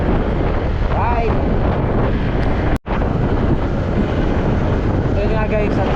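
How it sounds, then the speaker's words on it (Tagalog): Strong wind buffets the microphone continuously in Tagaytay, a loud, rough roar with a brief dropout midway and faint voices underneath. "hangin dito sa may part ng Tagaytay"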